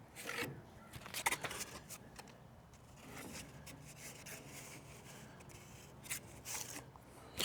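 Cardboard being cut up during a cheap rear window replacement on a Dodge Ram 1500 pickup, a series of quiet scissor-like snips and rustling scrapes that come in short bursts, close with no voices.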